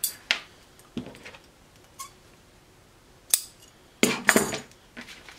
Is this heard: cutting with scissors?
yes